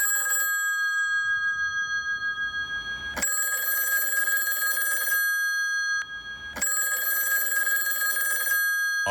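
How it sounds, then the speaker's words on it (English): A telephone rings in a radio studio during a live soul music show. It gives two long, bright bursts of electronic bell trilling, separated by a short pause, close and clear. "Oh look, phone's ringing."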